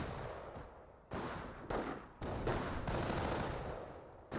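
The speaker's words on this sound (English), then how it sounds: "Panzer Grenadier firing away, getting some damage on the rifleman." Machine-gun fire from a Panzer Grenadier squad in Company of Heroes 1, with dense rattling bursts broken by short pauses and mixed with the noisy wash of battle.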